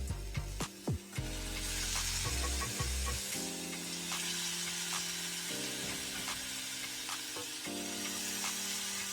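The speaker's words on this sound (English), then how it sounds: "So you wanna hear that sizzle." Continuous hissing sizzle of scallops searing in hot oil on a stove at high heat, close and steady, with a few clicks and clunks near the start.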